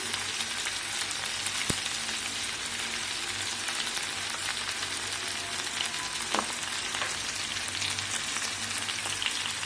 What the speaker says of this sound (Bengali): মটরশুঁটিগুলো দিয়ে এটাও কষে নেব একবার। নুন দিয়ে দিচ্ছি 1 চামচ।